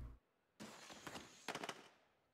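Fireworks in the Planet Coaster video game, faint and distant-sounding: two bursts of crackling pops, the second a rapid cluster of sharp bangs, trailing off into quiet.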